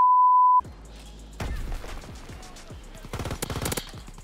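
PPSh submachine gun in Call of Duty WW2 firing short bursts of rapid shots, with a steady beep at the start before the gunfire comes in, and a dense, louder volley near the end.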